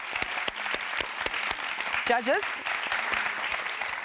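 A debate audience claps steadily for the winner, a continuous mid-level applause, while a voice speaks briefly partway through.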